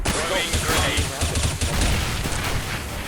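Rapid gunfire from a CS:GO esports match at Dreamhack Winter 2014 crackles in bursts through a smoke grenade, heard under excited commentator talk, with loud continuous game action throughout.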